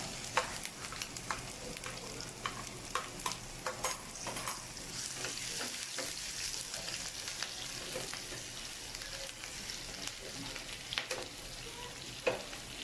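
Chopped ginger, chilli and garlic frying in hot oil for Malaysian-style chicken, a continuous soft sizzle with scattered stirring clicks and taps against the pan, close and fairly quiet, with no talking.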